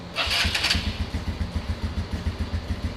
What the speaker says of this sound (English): start it up, and we're going to let it idle for about 2 to 3 minutes